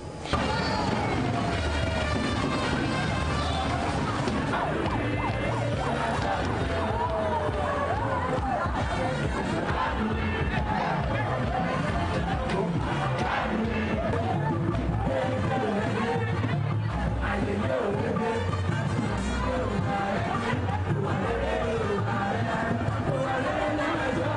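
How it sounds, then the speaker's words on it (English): Hundreds of party supporters celebrate in the streets of Ekiti as a governor-elect rides in parade to the APC state secretariat, a continuous loud roar of crowd cheering and chatter with occasional bangs, running under a talking voice throughout. "Hundreds of supporters stormed the streets of Ekiti in celebration with the governor-elect, who rode in parade to the state secretariat of the APC."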